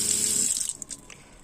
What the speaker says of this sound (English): If you turn the water pump on,